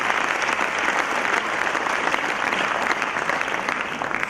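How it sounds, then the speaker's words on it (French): A crowd at a francophone awards ceremony applauds continuously, a thick, even wash of many hands clapping at close range with no talking over it. "Donc applaudissez pour le ministre de la Culture."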